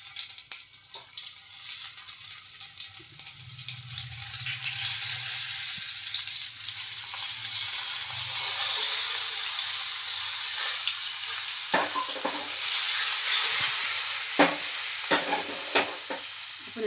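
Stuffed eggplants frying in a pan of hot oil with cumin, mustard seeds and turmeric: a steady, close sizzle with a few sharp utensil clinks toward the end, and no voices.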